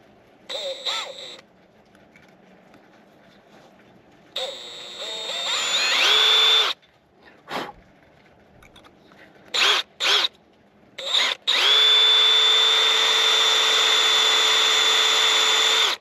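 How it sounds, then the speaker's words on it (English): A power drill whirs in several bursts, short spurts and then a long sustained run, its pitch shifting as it bites into a broken metal bolt, the bit slipping. "let's try and drill it"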